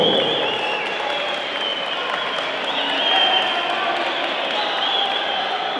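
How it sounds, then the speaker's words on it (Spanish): Sustained applause from a large crowd at a football match in the Bronx, New York, steady and dense throughout, with a slight swell toward the middle. "Armando Álvarez, recibamos un fuerte aplauso."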